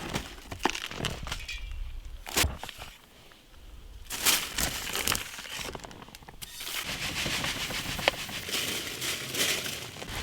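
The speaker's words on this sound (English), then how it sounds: "I'm just gonna dump all of the ingredients into the plastic bag in the mold" Dry ingredients are dumped into a plastic bag set inside a mold, giving bursts of crinkling and rustling plastic with a few sharp crackles, close and fairly loud throughout.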